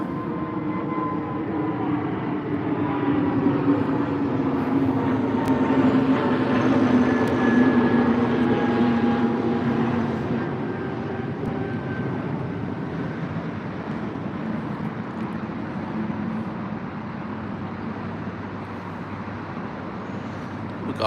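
An Iberia airliner departs Heathrow for Madrid with a broad, steady jet roar that swells and then slowly recedes into the distance, with no talk.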